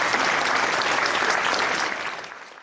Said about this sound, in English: we have a crowd of people outside my house right now clapping